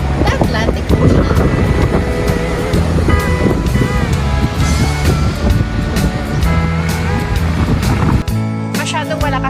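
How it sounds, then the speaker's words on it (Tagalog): Strong Atlantic Ocean waves at Porto, Portugal, crash and roar continuously and loudly beside a barrier, with wind noise throughout and a sudden shift near the end. "Masyadong malakas yung alon dito sa Atlantic Ocean."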